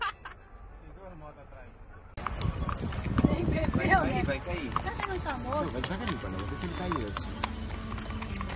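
Horse hooves clip-clop on the road in a rhythmic trot beside traffic noise, with voices talking over much of it.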